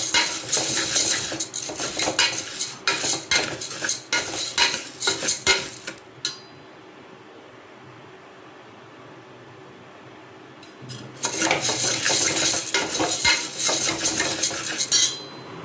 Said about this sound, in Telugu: ఇప్పుడు కుక్కర్లో వేసుకున్న కందిపప్పును వేపుకోవాలి.